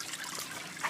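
Water flows steadily into the return pump chamber of a DIY reef tank sump, a continuous close trickling rush with no talk over it.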